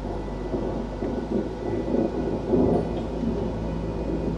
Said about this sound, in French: en quelques minutes l'orage arrive sur nous